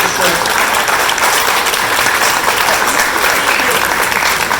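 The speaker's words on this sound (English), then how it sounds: "give her a big hand, a great round of applause" Sustained applause from an audience at a Republican club gathering fills the space, dense and steady throughout with no pauses.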